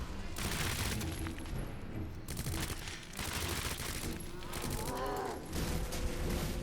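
A spark shot fired at a boss in the Resident Evil 2 remake on hardcore difficulty: repeated loud crackling bursts that fill the whole clip, with mechanical clatter between them.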